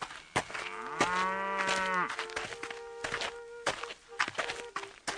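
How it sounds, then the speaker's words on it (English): A cow gives one long, loud moo with footsteps thudding along a road, then a few more scattered hoof or step sounds as it is led toward market. "Jack led the cow down the road toward the market."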